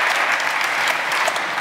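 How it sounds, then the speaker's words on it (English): Steady, dense applause from a conference audience, filling the room evenly and heard alone. "A big round of applause, everybody."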